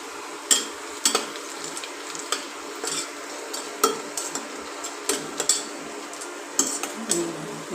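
Onions frying in a pan with mushrooms and mint, stirred by a utensil that scrapes and taps the pan in irregular clicks over a faint steady sizzle, no talking.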